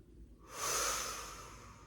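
During a beginners' Pilates exercise, one close, breathy exhale swells up after a quiet start and trails off slowly, heard alone without talk.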